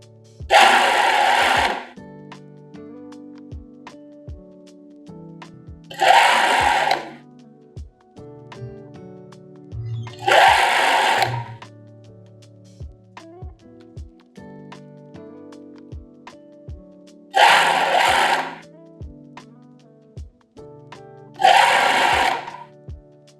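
Sewing machine stitching lace trim onto batting in a series-production sewing job, running in five loud bursts of steady stitching a few seconds apart, with quieter handling sounds and pauses in between.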